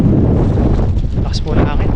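Heavy wind at sea pounds the microphone in a loud, continuous rumble, with a brief voice cutting through near the end.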